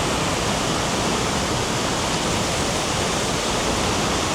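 Tegenungan Waterfall in Ubud, Bali pours in a loud, unbroken broadband roar. It is close and constant, with no voices.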